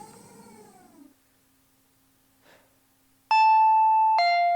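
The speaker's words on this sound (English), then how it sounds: "The doorbell rang again." A two-tone doorbell chimes clearly after a quiet stretch in Higurashi When They Cry, preceded by a faint, wavering animal-like cry and a soft rustle.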